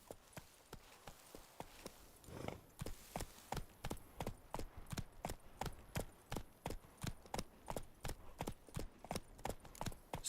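A horse's hooves clip-clop in a steady trotting rhythm in The Witcher 3 video game, evenly spaced close thuds repeating over a soft ambient background, with no talking.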